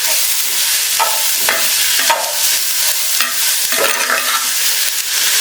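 Loud, continuous frying sizzle of a mint chutney mixture in a pan, with repeated scraping stir strokes about every second, close and without talk.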